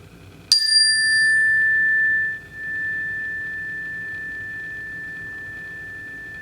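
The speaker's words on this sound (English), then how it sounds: "I'm going to ring the bell." A single bell strike rings out clearly, then a long pure tone lingers and slowly fades over several seconds in a quiet room.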